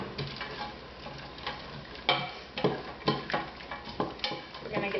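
Sweet potato, rice, bean and vegetable soup being stirred in a pot: a spoon scrapes and clacks against the pot in irregular strokes, with soft sloshing and a low simmering hiss underneath, close and moderately loud.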